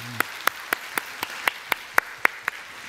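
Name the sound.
church congregation applauding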